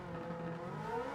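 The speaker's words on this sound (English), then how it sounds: "Stay in second for this bend, and full throttle to the finish." A race car in the Gran Turismo 7 video game runs at full throttle with a steady, droning engine note that rises slightly in pitch toward the end. No voices.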